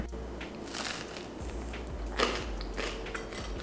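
Close bites and chewing of a hearty bread spread with peanut butter and marmalade, crunchy crackling bursts repeating over a few seconds, alone with no talk.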